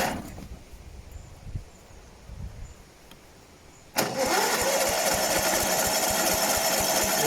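Atco Balmoral 20SE cylinder lawnmower with a Tillotson carburettor, choke on, is key-started: quiet handling sounds, then the engine abruptly catches and runs at a loud, steady, rattling idle close by.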